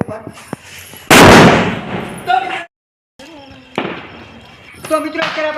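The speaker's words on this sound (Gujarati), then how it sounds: "તો આમાં છે પૂતળિયા બોમ એટલે આપણે પહેલાં આનથી શરૂઆત કરીએ" A putliya bomb firecracker set off in a village for Diwali bursts with a loud, sharp blast, followed by crackling, a brief silence and more popping and bangs nearby, with voices talking around it.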